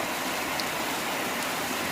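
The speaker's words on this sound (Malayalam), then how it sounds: "ഇപ്പോൾ പെയ്തു മഴ" Steady, even hiss of rain falling in Kozhikode, dense and continuous with no pauses, like a downpour heard from close by.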